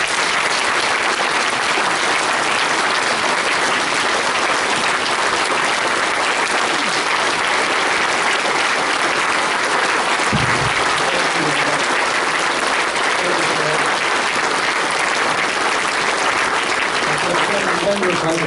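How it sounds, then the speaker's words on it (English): A banquet audience at an annual dinner claps loudly and continuously, a thick sustained wash of applause with a brief low thump partway through and faint voices mixed in. "Let's give him a round of applause"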